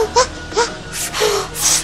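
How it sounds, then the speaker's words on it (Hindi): A young boy wails and whimpers in short broken sobs and moans, rising into longer cries at the end, close and unaccompanied by speech. "मेरा बच्चा रो रहा है"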